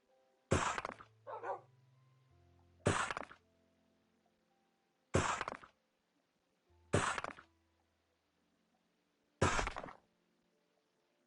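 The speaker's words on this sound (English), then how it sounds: "Yes, puppy dogs, I hear you." Dogs bark in sharp, loud single bursts about every two seconds, five in all, with a softer whimpering yelp right after the first; no one talks over them.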